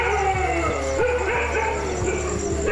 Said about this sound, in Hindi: कुत्ते शेरों को देखते ही भौंक भौंक कर